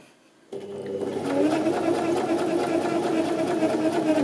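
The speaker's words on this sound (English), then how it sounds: "And continuing to sew" A sewing machine stitches a curved rolled hem, starting abruptly after a short quiet moment and then running at a steady, fast, close whir with an even mechanical buzz to the end.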